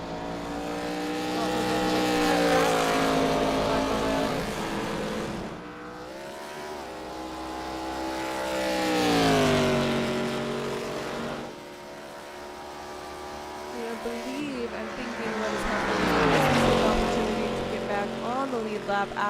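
Stock race cars circle Charlotte Motor Speedway behind the pace car, their engines swelling loudly as each pass sweeps by and then fading, in a repeating rise-and-fall drone.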